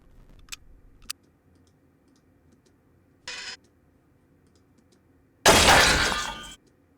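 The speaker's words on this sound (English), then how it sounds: "Like almost like an anvil kind of a sound would be kind of cool." Sharp cinematic impact effects built for film titles, aiming for a metallic anvil-like hit: two faint clicks, a short crunchy burst, then a loud, close, shattering smash that sustains for about a second before cutting off.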